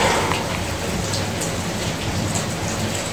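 Steady heavy rain pours in Lahore, Pakistan, a dense, loud, even hiss of drops on surfaces with no voices.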